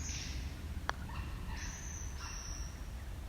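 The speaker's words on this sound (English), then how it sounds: "but I could hear yellowtail black cockatoo." Yellow-tailed black cockatoos calling in bush, several drawn-out wailing calls at moderate distance over a quiet background, with one brief sharp note between them.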